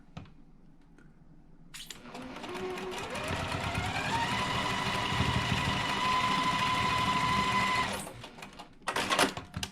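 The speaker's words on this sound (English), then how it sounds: "I'm gonna line those up and just stitch those" A home sewing machine stitches quilt block seams in one steady run of about six seconds, its motor whine climbing in pitch as it speeds up, with brief handling clatter before and after.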